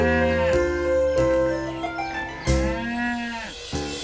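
Cattle grazing in a meadow moo in long, loud, drawn-out calls, several overlapping cows lowing one after another with no talk over them.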